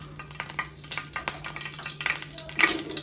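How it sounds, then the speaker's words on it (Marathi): Curry leaves hit hot oil in a home kitchen pan while cooking dried fish, giving a sharp rising sizzle near the end after quieter stirring and pan clatter, with a steady hum underneath. "तर मी ते पॅनमध्ये तेल गरम करत ठेवलं आहे झालं आहे बहुतेक गरम त्याच्यामध्ये आप टाकते कढीपत्ता"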